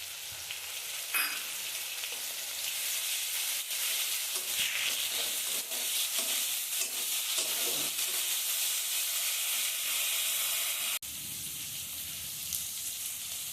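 Ginger garlic paste hits hot oil for aloo kofta curry and sizzles steadily in a soft, continuous hiss with a few stirring scrapes, fairly quiet and close, dipping briefly near the end before carrying on, with no speech.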